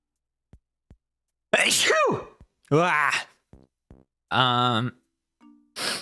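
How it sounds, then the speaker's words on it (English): A sharp sneeze bursts out close by amid brief voiced sounds and breaths, with a couple of short clicks and another quick burst at the end. "Oh, hold on, I have a sneeze."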